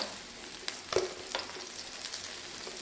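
Chicken pieces fry in hot oil with a steady, fairly quiet sizzle, broken by a few sharper crackles and scraping clicks as pieces are lifted out.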